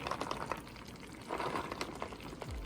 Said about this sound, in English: Then I'll pour the tapioca pearls.